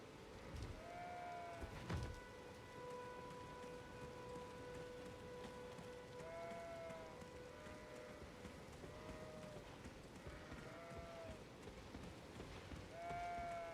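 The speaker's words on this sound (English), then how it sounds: "Raining." Rain falls steadily in Elden Ring, a soft continuous hiss holding at an even level from start to finish, with a brief louder burst near the beginning and faint tonal game chimes drifting over the top.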